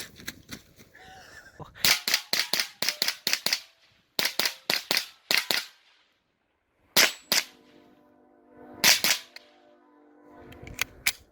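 Gunshots from a Marlin Model 60 rifle, sharp close cracks fired in quick bursts of several shots with short pauses between groups and faint ringing after some.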